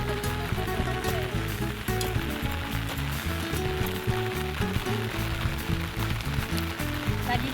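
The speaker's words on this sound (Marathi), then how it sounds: "पाऊस पडतोय बारीक बारीक आहे" Light drizzle falls over green fields in rural Konkan during monsoon farm work, making a steady, soft, continuous hiss with a low hum running beneath it throughout.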